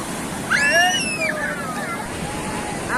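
Sea waves roll and slosh at Puri beach where people are bathing, a continuous wash of surf with a brief surge, while a shrill call or cry rises over the water and crowd noise murmurs beneath.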